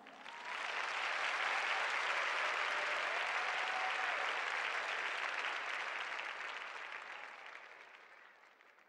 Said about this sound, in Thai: ขอเสียงปรบมือให้กับแม่มดน้อยของดิฉัน